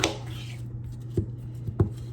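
A knife chops through a firm squash on a cutting board, two distinct thuds spaced apart over a faint steady hum.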